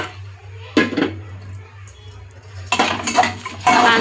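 Rice lands in a metal pot and gets stirred, giving a few bright clinks and rattling scrapes in short bursts over a low steady hum, with quiet gaps between.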